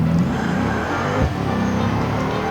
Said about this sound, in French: là ça pousse quand même vachement fort avec cette bagnole